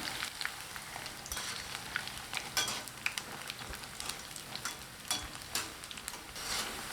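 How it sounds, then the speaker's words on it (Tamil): Pakoda fritters deep frying in hot oil, giving a steady close crackle and sizzle with brief sharp pops and bubbling bursts throughout, no voices. "போட்ட உடனே திருப்பி விடக்கூடாதுங்க கொஞ்சம் சலசலப்பெல்லாம் அடங்கி ஒரு ரெண்டு நிமிஷம் நல்லா வெந்து வந்த திருப்பி விடணும்"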